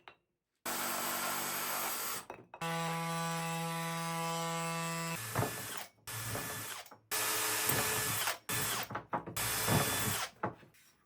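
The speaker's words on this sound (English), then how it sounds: "Now I'm trying to find spots without rocks and marking the holes with a drill." Hammer drill marking holes in a natural stone wall, running in several loud bursts of steady whirring with short pauses between, close by and alone.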